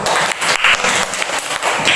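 A classroom of students breaks into applause, a dense, steady wash of many hands clapping loudly for about two seconds with no talking over it.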